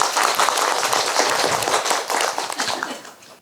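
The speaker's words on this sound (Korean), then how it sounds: "여러분 박수 부탁드릴게요" A studio audience at a Buddhist psychology talk show claps in a dense, loud burst of applause that holds steady, then fades out near the end, with no talk over it.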